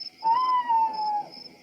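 A cartoon owl in a Peppa Pig episode gives a single clear hoot, smooth and sustained for about a second. It sounds close and stands alone.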